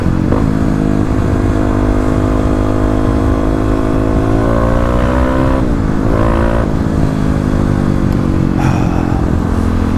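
A Kawasaki KLX dirt bike engine idles and revs steadily nearby while riding through town, its pitch swelling and dropping a few times as it moves along.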